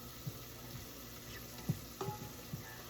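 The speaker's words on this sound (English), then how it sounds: "just going to cook these ingredients down" Chili ingredients with canned black beans and smoked beef ribs cooking down in a pot, giving a soft sizzle with a few quiet stirring bumps and scrapes, close and faint, no talking.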